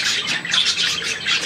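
Budgerigars squawk and chatter continuously, fairly close and loud, a dense run of harsh calls with no gaps.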